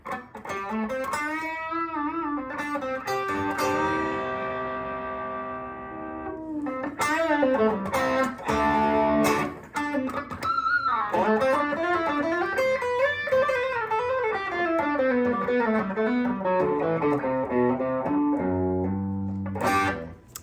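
A PRS Hollowbody II electric guitar plays through a smooth distortion pedal, sustained notes and bends ringing out with a brief tuning pause in the middle.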